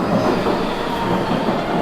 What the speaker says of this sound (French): C'est en métro que je m'y rends.